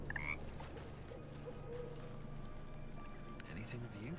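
Frog croaking in Baldur's Gate 3, a short croak heard up close over a steady ambient game background, with a person talking alongside it.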